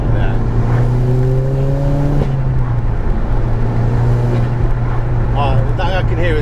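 A 450 BHP methanol-injected VW Golf GTI Edition 30 drones loudly from inside the cabin on a ride-along, its engine note shifting as it changes gear. Sharp crackles suggest exhaust pops, and people talk over the noise.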